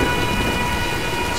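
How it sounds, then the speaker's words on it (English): Heavy thunderstorm with pouring rain in the Tomb Raider reboot game, a loud, dense, steady roar of rainfall with rumbling thunder throughout. "Nah, let's wait out the storm."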